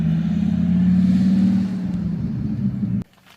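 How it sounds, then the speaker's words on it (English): A Dodge Viper sports car arrives with a deep, loud, rumbling engine close by, holding steady and then easing before cutting off abruptly near the end. "Here comes my neighbor with the Viper."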